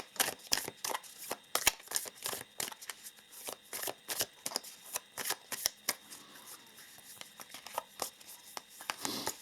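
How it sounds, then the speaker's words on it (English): Self-help cards are shuffled by hand in quick, crisp bursts of riffling and slapping, close up and continuous, with short pauses between shuffles. "Now let us pull some self-help cards here before we pull some charms today."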